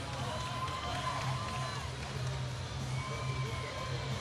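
A standing-room-only crowd cheers and shouts steadily through an event at the Unbroken Strength Games 2022, a dense, continuous roar with scattered whoops at moderate distance.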